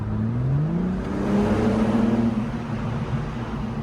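A BMW M4 accelerating hard on the approach to a tunnel, its engine note climbing in a smooth, loud rising drone that swells midway and then holds, heard from inside the car with no talking.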